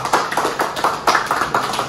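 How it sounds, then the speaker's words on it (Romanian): A small group claps in a quick, uneven rhythm for a surprise visit to an 80-year-old aunt, the claps close and fairly light, lasting under two seconds with no talking over them. "Aplauze pentru mine!"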